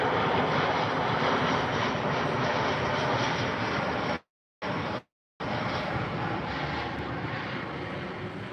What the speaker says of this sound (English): I can hear all the airplanes flying over